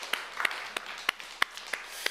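A church congregation claps during a Sunday worship service, a few sparse, soft claps spaced irregularly in a quiet hall.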